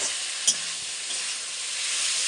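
Steady high sizzle of a curry being sautéed in a pan, constant and close, with one brief clink of a utensil near the start and no talking.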